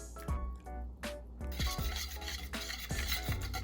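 Barbecue sauce being stirred with a splash of soy sauce, close up, with a steady run of rhythmic scraping strokes about every half second and no voices.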